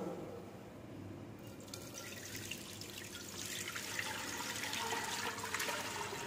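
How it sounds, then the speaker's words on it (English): Cold tap water pours into a steel stock pot, a steady hissing gush that grows louder and brighter partway through and then keeps running evenly, close by with no talking. "Now I'm going to add cold water."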